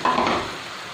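Chopped onion, green chilli and capsicum hit a chilli chicken sauce in a pan, giving a short sharp sizzle burst that settles into steady frying hiss as they are stirred.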